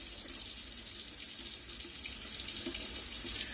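Tap water runs steadily into a sink while a coleus root ball is rinsed of debris, a continuous close splashing hiss with no talking.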